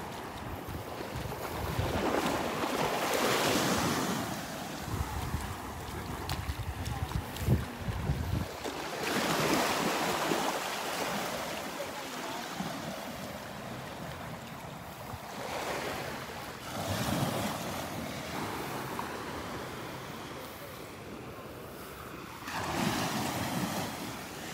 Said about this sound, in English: As soon as I clear the trees here, the wind's gonna pick up.